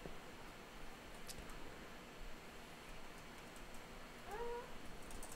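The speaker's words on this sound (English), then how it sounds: "The cat just made a terrible noise." A cat lets out a brief, strained yowl near the end of a quiet stretch of faint background hiss, a short rising-then-flat cry, fairly soft and alone.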